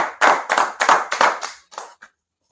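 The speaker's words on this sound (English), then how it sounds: "Clap up again." A small group clapping in unison, about six strong, rhythmic claps in short bursts, close and loud, ending with a softer final clap and silence.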